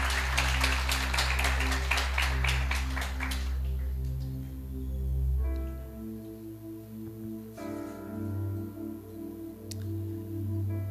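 A church congregation applauds in a burst of dense, loud clapping for a few seconds over sustained music before it fades out, leaving the music alone.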